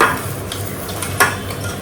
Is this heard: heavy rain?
no